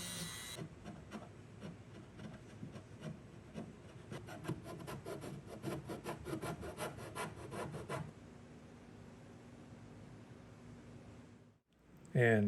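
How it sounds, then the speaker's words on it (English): A Dremel rotary tool fitted with a 1/8 inch down cut bit routs a relief into wood for a media stand, a gritty rasping whir with a rapid pulsing rhythm in the middle that settles into a quieter steady hum before stopping. "I used a 1/8 inch down cut bit in my Dremel"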